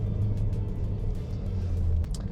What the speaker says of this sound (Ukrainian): Коли ми даємо газ підлогу, то автомобіль у нас має приємний звук двигуна, дуже швидко розганяється